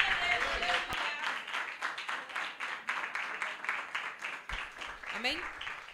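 Church congregation applauding during a worship service, a rhythmic, somewhat unified clapping that fluctuates in strength, with voices and a brief vocal exclamation rising above the crowd near the end.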